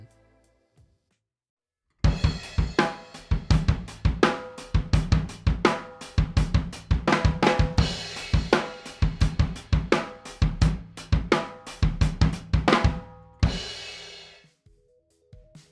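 A drum kit recorded with a three-mic setup, including an SM57 on the snare top, plays a tight, steady groove of punchy kick and snare hits for about eleven seconds, ending on a ringing cymbal crash.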